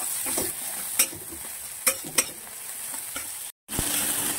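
Onion fries with ginger-garlic paste in a hot pan, hissing in a loud steady sizzle broken by a few sharp stirring clinks and a brief dropout near the end, with no talking.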